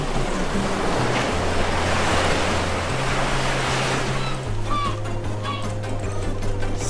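Flowing water in the video game Minecraft, a steady broadband wash like surf that stays loud and continuous under faint background game tones, with no talking.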